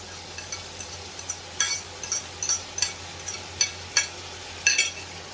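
Chopped onions go into a pan with chayote and green peas and are stirred, bringing a low steady sizzle under a run of sharp spoon scrapes and clinks against the pan, close and without talk.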